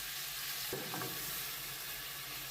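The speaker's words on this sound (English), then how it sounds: "Add your shrimp and let it cook for 1 minute without touching it" Shrimp searing in smoking-hot vegetable oil over high heat, a steady broadband sizzle that holds evenly for the whole stretch, with a brief faint clatter near the start and no voices.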